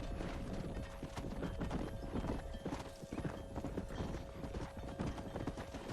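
Horse hooves galloping in the video game Red Dead Redemption, a loud, rapid and continuous clip-clop beat close up, with a steady tonal hum running underneath.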